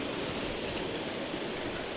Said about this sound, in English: the waves are getting a bit close